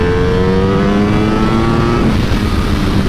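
A Ducati Panigale V4R motorcycle on a race track, its engine loud and close in a steady high-pitched whine that climbs and then eases off as the revs drop, with no talking.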